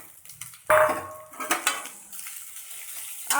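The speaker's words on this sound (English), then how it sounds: "So now I'm going to add the rice" Basmati rice, a single bowlful, tips into a metal cooking pot with a sharp clatter and pouring rattle, followed by softer knocks and watery stirring noises nearby, with no talking.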